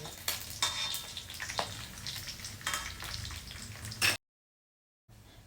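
Pork chop frying in a pan, crackling and spitting oil with irregular sharp pops, loud and close, cutting to silence for about a second before the sizzle resumes.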